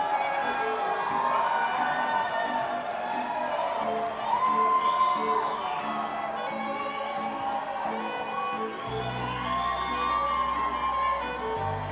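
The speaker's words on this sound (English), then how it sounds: "A round of applause for the beautiful queens of Miss Gay Australia 2020." A large audience cheers, whoops and applauds the queens of the Miss Gay Australia 2020 pageant during the evening gown segment. The noise is a steady, dense roar for the full length, with a low hum entering near the end.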